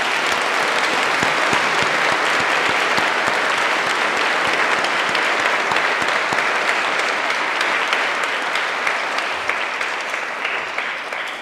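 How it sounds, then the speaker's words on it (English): A crowd at an annual carol service applauds loudly and continuously for over eleven seconds, a thick, even roar of clapping that tapers only slightly near the end. "I think everybody here, first of all, deserves a round of applause."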